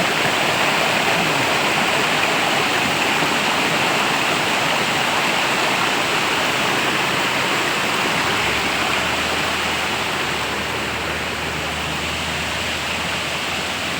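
A natural river in the countryside rushes continuously, a dense, even wash of flowing water that stays loud and unbroken throughout, with no voices.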